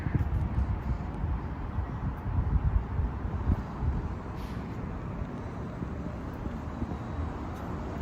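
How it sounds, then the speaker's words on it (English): Wind gusting at a roadside bus stop on Finch Avenue West in Toronto, a continuous low rumble and buffeting on the microphone that stays steady throughout, with no talk. "It's windy."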